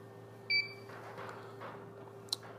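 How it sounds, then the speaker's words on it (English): An MN4000 electrical equipment monitor sounds a short electronic beep signalling a fuse block error, followed by a faint second blip over a steady background hum. "the alarm is indicating error condition."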